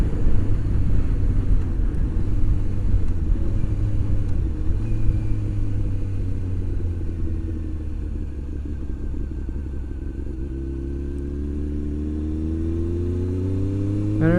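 A motorcycle rides along a road near the Muskoka airport, its engine a steady loud droning rumble throughout with shifting pitch as it accelerates and eases off, plus wind noise.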